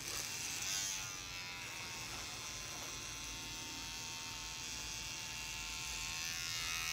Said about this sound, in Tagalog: dapat pala yung paghagod sa razor is dahan-dahan para sasama yung buhok